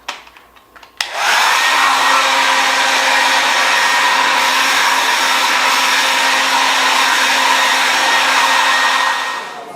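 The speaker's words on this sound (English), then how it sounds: "And a hair dryer." A hair dryer switches on and blows loudly and steadily for several seconds while drying a show dog being groomed, a constant close whir after a brief quiet start.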